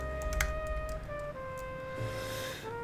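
Typing on a computer keyboard at a desk, a quiet run of soft, irregular key taps over a steady background hum and faint tones, close to the microphone, with no talking.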